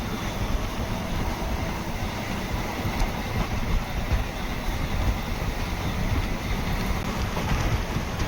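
The Chennai Egmore Express, a Southern Railway express, runs along the Palakkad–Coimbatore route, a continuous loud rumble of wheels on rails with a dense rattling roar and no talk.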